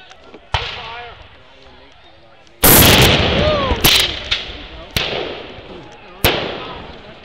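Black-powder musket volleys at an outdoor historical reenactment, several loud booming shots, some ragged and overlapping, spaced a second or more apart, with shouted commands and voices heard between and under them.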